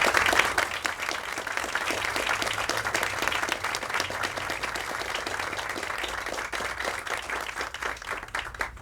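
Audience at an alumni award ceremony gives sustained, even applause for an honoree, a dense wash of clapping from a large crowd lasting nearly nine seconds without letting up.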